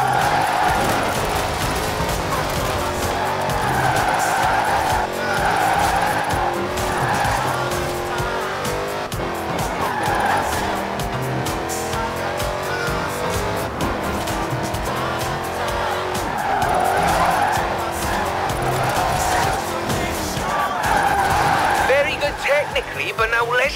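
Tires squeal over and over as a car drifts through corners in the racing game Forza Horizon 4, the engine droning steadily underneath, with a voice talking over the game sound.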